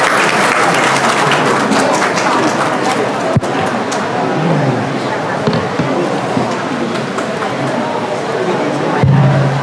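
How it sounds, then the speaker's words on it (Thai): An audience at a Thai ceremony in New York honouring Queen Sirikit claps steadily and loudly throughout, a dense sustained round of applause with a few sharper knocks mixed in. "ขอเสียงปรบมือครับ"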